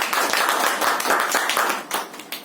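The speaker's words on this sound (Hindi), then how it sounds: "एक बार तालियां दे सकते हो" Clapping from a congregation at an online Sunday church service after a song, a short burst of uneven hand claps heard close, fading somewhat toward the end.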